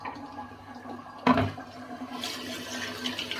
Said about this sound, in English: Okay, I'm going to do a cold water rinse.